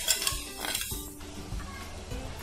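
A spoon clinks and scrapes against a pan, stirring sugar until it dissolves into syrup for tutti frutti made from watermelon rind. Brief metallic taps come first, then a softer, duller swish of stirring.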